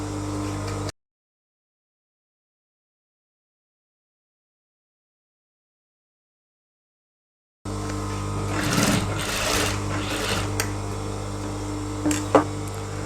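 A sewing machine stitches elastic into a child's trouser, its steady motor hum and needle clatter running for a moment, dropping out to silence, then returning with louder rattling bursts.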